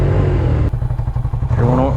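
A Suzuki SV motorcycle engine idles close by with a loud, lumpy throbbing pulse, steady and uneven in rhythm.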